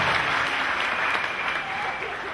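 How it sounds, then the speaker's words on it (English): A church congregation at a prophetic healing service claps together in a loud, sustained burst of applause, with crowd voices faintly mixed in beneath the clapping. "Clap for Jesus Christ."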